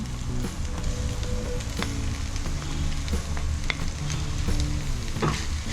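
Boiled, smashed potato is stirred into a sizzling pan of sautéed fish filling for noodle fish rolls, with steady frying crackle and soft scraping strokes of a spoon, close up and free of talk.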